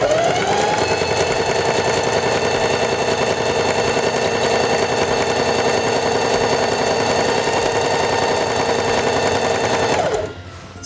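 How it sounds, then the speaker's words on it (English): A Singer Heavy Duty 4411 sewing machine stitches fabric in a steady, fast, continuous whir with a rhythmic needle chatter, loud and close, running for about ten seconds before winding down at the end. "Place the fabric under the presser foot, lower the presser foot,"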